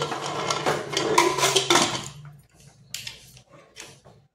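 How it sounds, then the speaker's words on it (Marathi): A pressure cooker of soaked masoor dal is set down on a stove with a flurry of loud, close metallic clanks and knocks, followed by a few fainter clatters. "तर चला आपण कुकर लावून घेऊ।"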